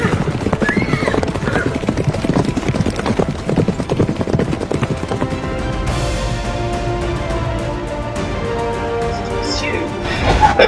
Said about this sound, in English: An unexpected accident, thanks to two horses deciding to jog on the highway.